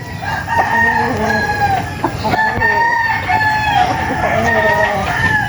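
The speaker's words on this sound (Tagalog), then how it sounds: "Grabe yung inahin dito, daming inahin dito." Many hens cluck and squawk together in a busy gamefowl coop, with a rooster crowing among them, steady and fairly close.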